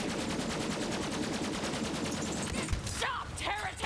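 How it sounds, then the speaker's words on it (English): Rapid bursts of pistol gunfire from the Borderlands 3 video game, dense and continuous, with shouted game voices and other effects breaking in near the end. "this is a pretty good pistol."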